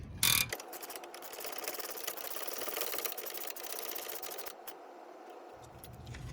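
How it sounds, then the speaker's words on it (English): A stabilizer link bolt on a Chevy Equinox or GMC Terrain is tightened with a wrench while a hex key holds the stud, making a fast ratcheting whir that runs for several seconds, with no voices. "So same thing, wrench on, hex in, and tighten."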